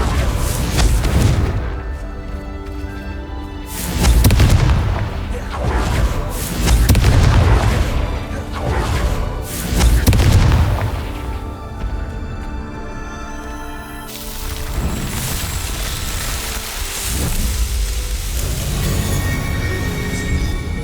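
Booming spell blasts in the Hogwarts Legacy game, several heavy explosions bursting in close succession with rumbling tails, loud and near, over a continuous bed of game music and ambience.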